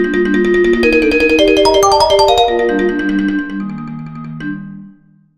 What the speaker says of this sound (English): all three of these marimba samples are inside of this note controller